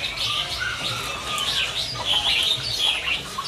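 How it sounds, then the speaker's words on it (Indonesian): Local zebra doves at a bird market kiosk, with dense overlapping chirps and calls from many caged birds throughout, steady and fairly close, with a busy market murmur underneath. "Perkutut lokal."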